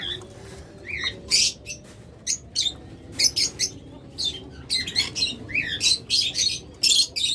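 Tame farm-raised pet birds kept for sale chirp and squawk in quick, shrill bursts, with many overlapping calls through a steady low background hum and no talking.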